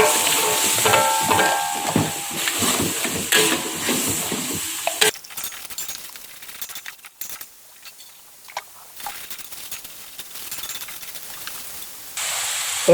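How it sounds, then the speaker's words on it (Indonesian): A blended paste of shallot, garlic and ginger is sautéed in a pan, giving a dense sizzle and hiss with stirring scrapes that is loud at first and then drops to a quieter, intermittent crackle. "kita tumis."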